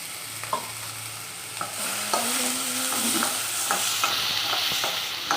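Coconut, cinnamon, clove and pepper fry in a pan, a steady close sizzle broken by several stirring scrapes and clinks.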